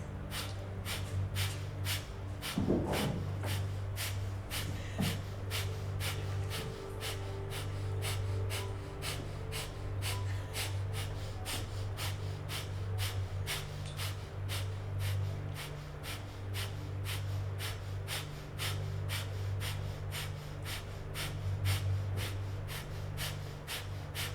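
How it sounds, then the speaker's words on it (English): Kundalini yoga breath of fire, rapid rhythmic forceful nasal exhalations repeating about twice a second for the whole stretch, close and steady over a low background hum. "as you do breath of fire and you continue moving through this breath"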